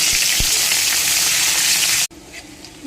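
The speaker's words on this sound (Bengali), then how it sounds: "এবার পেঁয়াজ দিয়ে দেব।" Sliced onion hits hot oil in a wok that already holds a dry red chilli, bay leaf, cinnamon and cloves. A loud, steady hissing sizzle fills the air, then cuts off abruptly to a much quieter, faint crackle.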